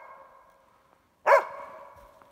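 A single loud bark from a hunting dog at an aspen tree during a marten hunt rings out midway, close by, with a faint steady hum before and after.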